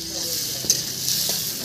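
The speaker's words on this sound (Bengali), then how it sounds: "এবার আমাদের আলু ভাজা হয়ে গেছে, এবার হচ্ছে পেঁয়াজ ভাজা" Onions fry in a pan over a wood-fired stove, giving a soft continuous sizzle with a couple of faint stirring clicks, close and moderately quiet.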